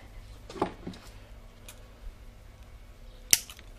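A motor fuel line being cut for a trike engine: a single sharp snip stands out clearly near the end, with a fainter click shortly before it against a quiet background.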